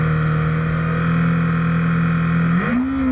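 Racing motorcycles launch from the starting grid at an HCC13 hot-class heat race, a loud, sustained, steady engine drone that then rises in pitch near the end as the machines accelerate away.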